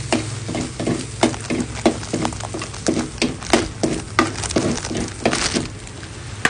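Shark pieces stir-fried with homemade curry paste in a pan, giving a steady close sizzle broken by repeated scraping and clacking strokes of a spatula in an irregular rhythm.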